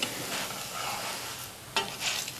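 A besan paratha cooks on a hot griddle, giving a continuous close sizzle with occasional crackles and a brief sharper pop, loud and steady throughout without talk.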